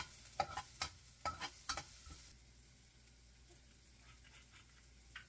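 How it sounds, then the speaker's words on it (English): Ginger and garlic hit re-oiled hot pan oil with several sharp crackling bursts, then settle into a quiet, steady sizzle with occasional faint pops. "Re-oil the pan and add your ginger and garlic."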